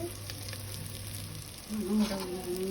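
Cooked rice goes into a sizzling frying pan for Karnataka-style vangibath. A steady close hiss swells louder partway through as the rice lands, and scraping tones follow.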